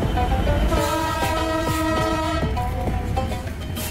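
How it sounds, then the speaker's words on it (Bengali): The Ekota Express intercity train, pulled by a single locomotive, passes through Bangabandhu Bridge East railway station. Its loud, close horn sounds in several stepped blasts over the steady rumble of the train. "ঈশ্বরদী হতে ননস্টপ চিলাহাটি এক্সপ্রেসকে দাঁড় করিয়ে চলে যাচ্ছে আন্তনগর একতা এক্সপ্রেস।"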